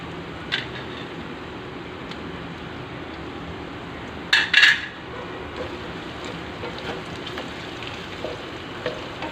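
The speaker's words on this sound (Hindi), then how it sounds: "मैंने 2 से 3 मिनट के लिए लहसुन को भुना है ताकि इसमें से खुशबू आ" Garlic sizzles softly in a hot pan, a steady low crackle with a brief louder clatter of utensil or stirring midway, no talking.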